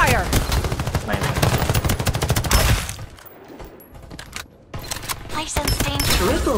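Rapid automatic gunfire rattles loudly in the video game Farlight 84, a dense burst of shots, a short lull with softer sounds, then another volley, mixed with game voice announcements.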